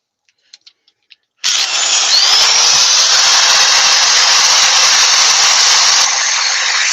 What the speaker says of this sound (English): They're so expensive, though, the right angle drills.